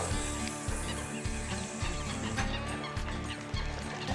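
Birds calling at a carp fishing lake, a busy run of clucking, gobbling fowl-like cries that carry on steadily with no talk over them.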